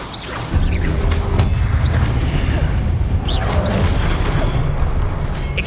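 Confringo fire spell blast in Hogwarts Legacy during a boss fight: a sudden heavy boom, then a sustained loud rumbling roar with whooshing game effects on top.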